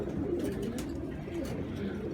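A pigeon coos softly and repeatedly against a steady outdoor background hum, with no voices present.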